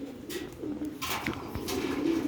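Rooftop pigeons cooing nearby, a couple of low soft rolling coos with light rustling around them, heard alone without talk.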